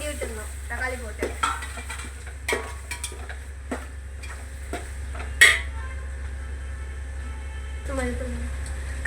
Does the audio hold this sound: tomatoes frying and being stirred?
yes